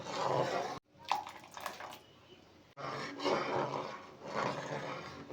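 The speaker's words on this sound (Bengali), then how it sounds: "এবারে অল্প অল্প করে ভিনিগার মেশানো জলটা দেব আর নাড়তে থাকব।" Vinegar mixed with water is poured a little at a time into hot boiled milk off the heat, a close liquid rush and splashing with stirring clatter, broken by two brief pauses.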